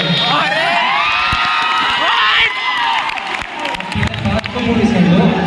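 A crowd of students at a polytechnic freshers party cheers and shouts loudly for a stand-up comedian, a dense, continuous roar of voices with some clapping, easing slightly midway before swelling again.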